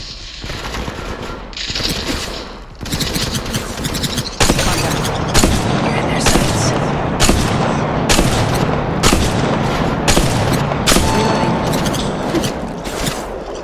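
Gunfire in Apex Legends Mobile, sustained bursts of rapid automatic shots with repeated sharp reports and booms, loud and close, continuing almost without pause through most of the stretch.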